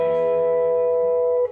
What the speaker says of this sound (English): So the goal is to make a pedal steel type sound.